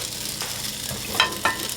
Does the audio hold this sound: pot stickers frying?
yes